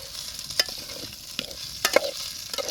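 Mutton blood fry with tomatoes and masala sizzling in a pan, a soft steady crackle under intermittent sharp scrapes and clinks of a spoon stirring, close by.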